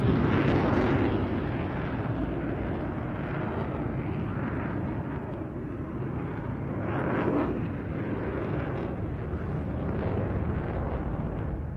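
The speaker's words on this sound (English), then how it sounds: "a tall loaded barrel roll as the aircraft accelerates away to our right" The aircraft Blackjack, flying at the Bournemouth Air Festival, accelerates away after a barrel roll with a loud, steady, broad engine roar that swells slightly midway and holds without a break.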